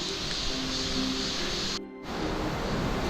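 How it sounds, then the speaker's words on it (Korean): Sambuyeon Falls in Cheorwon, a steady broad roar of falling water like surf, loud and continuous, briefly cut out near the end before returning. "저 바위를 돌아서면 멋진 폭포가 나옵니다"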